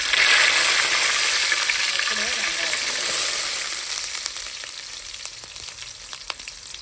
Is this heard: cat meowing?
no